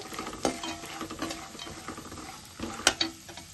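Peanuts and cashews fry in a pan, with a soft sizzle under light rattling and scraping as the nuts are stirred, close and moderately quiet.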